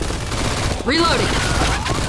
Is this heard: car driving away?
no